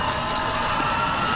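A dense crowd of citizens cheers steadily as Ukrainian President Zelensky enters the city of Kherson near the front line, the roar close and continuous for the whole moment.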